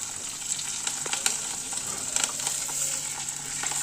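Garlic and green chillies sautéing in coconut oil for a fish curry, a continuous bright sizzle with small crackles and occasional spoon clinks, close and unbroken.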